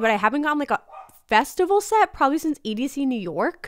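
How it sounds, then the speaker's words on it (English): Pet dogs bark now and then in the background, indoors, while a person keeps talking over them. "Sorry if you hear my dogs barking in the background"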